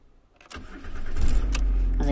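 A Ford Mondeo Mk4 2.0 TDCi diesel cranks briefly and catches, then settles into a steady, close, loud idle, with someone speaking over it.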